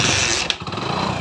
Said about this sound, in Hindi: तो चलिए हम बाइक को स्टार्ट करते हैं।